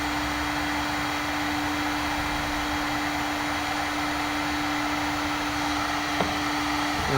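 A heat gun blows a steady, even hiss with a constant hum as it heats powder paint on a lead fishing jig, close and continuous throughout with no talk.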